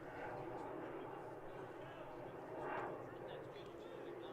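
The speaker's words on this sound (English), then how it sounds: "There's planes taking off." An airplane takes off near an airport beside a youth baseball game, a steady distant engine roar swelling slightly midway, heard faintly under crowd and field ambience.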